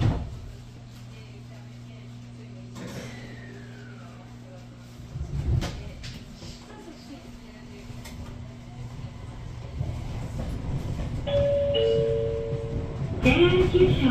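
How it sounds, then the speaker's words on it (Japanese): Train doors close at a Japanese station platform on a northern Kyushu line, with a chime ringing and a recorded announcement voice over steady platform hum, followed by the doors thudding shut. "ドアが閉まります。"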